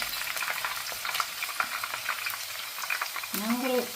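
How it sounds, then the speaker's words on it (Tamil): Chopped garlic for a meat sambal sizzles and fries steadily in a hot pan, a continuous crackling hiss with a brief stir near the end. "இப்போ நாங்கள் வெட்டி வச்ச உள்ளியையும் போடுவோம் அதையும் போட்டு பொறிக்கணும்"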